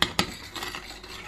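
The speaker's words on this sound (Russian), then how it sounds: "возьму одну ложку вот этих сливок и добавлю в овсянку" A spoon knocks twice against a bowl and then scrapes softly as it stirs a spoonful of cream into oatmeal. The clinks are close and crisp, and the stirring underneath is quieter, with no talk.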